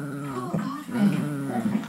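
A pet dog makes a low growl that rises into whiny whimpers, with a short pause midway, close and fairly quiet.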